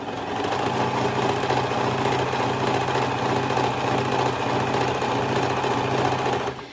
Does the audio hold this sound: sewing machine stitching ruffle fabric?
yes